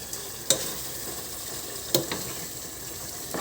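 Food stirred in a frying pan gives a soft steady sizzle, broken by two sharp utensil scrapes or clanks and a few lighter knocks, close and alone with no talk.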